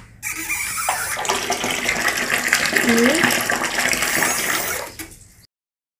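Well water gushes steadily from a tap in a continuous loud splashing rush that stops abruptly near the end, with a brief voice speaking over it.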